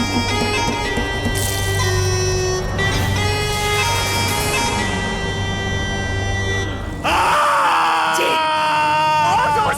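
A person screams and wails in distress in a crime drama scene, a long loud anguished cry that breaks off and resumes with sobbing, strained vocal sounds.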